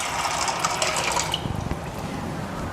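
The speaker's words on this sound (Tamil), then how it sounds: "போட்டு நம்ம அதில் தண்ணி வேணுங்கிற அளவு ஊற்றி வச்சுக்கலாங்க." Tap water rushes steadily into a bowl or pot to boil pasta shells, then drops to a lower gurgling trickle near the end. The pour is close and fills the whole stretch, with no speech.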